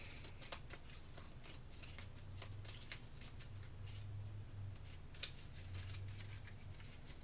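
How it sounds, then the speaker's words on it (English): A deck of cards is shuffled during a Kingdom Death: Monster tabletop game, giving quiet, rapid riffling and snapping bursts over a low steady background hum, without speech. "Shuffling the deck, we draw 3 of these"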